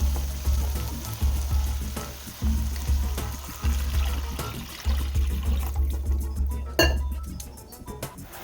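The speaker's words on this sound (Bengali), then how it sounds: "এইবার আমি আন্দাজ অনুযায়ী জল ঢেলে দেবো" Frying spice masala for an egg omelette curry hisses in a pan while metal clinks and knocks against it in a regular rhythm. Near the end a sharp burst comes as water hits the hot masala. The sound is close, with no talk.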